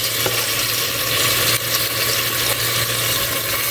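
Food fries and browns in a pan, giving a loud, steady sizzling hiss that runs unbroken for a few seconds, with no voices over it.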